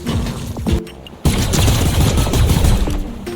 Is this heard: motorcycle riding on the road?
no